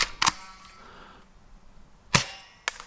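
A cheap airsoft gun shoots at a target from a longer distance, giving three short, crisp snaps: one, then after a pause two in quick succession, each clicky and dry against quiet surroundings.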